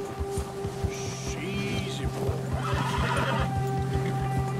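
Agitated horse in the video game Red Dead Redemption 2, snorting and whinnying over regular clip-clop hoofbeats and a low steady hum.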